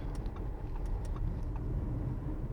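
An Audi A6 Quattro engine runs loudly and steadily, a continuous low rumble with no talking.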